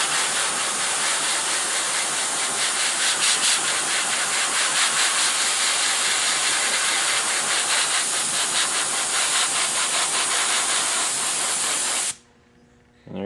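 A small spray gun sprays black paint onto a transmitter part in one long, steady, loud hiss that runs without a break for about twelve seconds, then cuts off abruptly.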